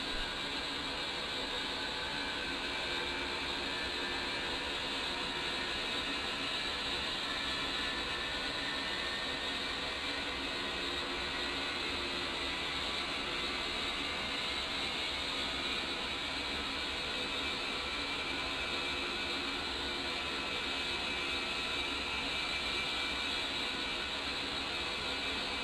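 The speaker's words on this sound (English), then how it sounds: "Once you have both engines running normally at idle power" The twin jet engines of an A-10C idle on the ground in a flight simulator game, a steady, unbroken whine and roar with faint mechanical ticking, constant in level throughout with no talking.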